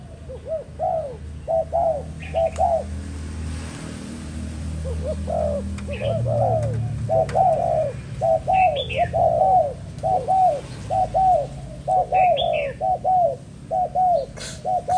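A Malaysian spotted dove coos repeatedly in short, rhythmic phrases, clear and close, with faint chirps from other birds and low background rumble between the calls.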